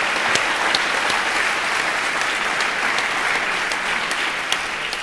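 An audience claps steadily at a panel discussion on sustainable fashion: a dense, even wash of many hands that continues throughout without a break, with no voices over it.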